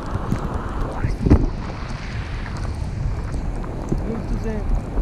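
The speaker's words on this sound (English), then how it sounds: "No, it's windy, windy." Wind rumbles and buffets the microphone outdoors at a flying site, with a brief louder gust and a few faint voices in the background.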